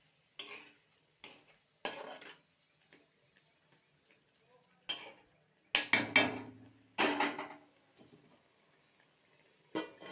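A metal lid goes onto a cooking pot of ash gourd leaves boiling with garlic and green chilies for bhorta: several sharp, close clinks and clatters with short silences between them, ending in a cluster of louder knocks.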